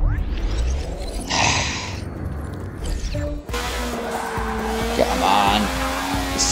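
Car tires squeal and skid in the Forza Motorsport racing game, a loud broadband screech mixed with steady engine drone that shifts abruptly partway through, with no talk over it.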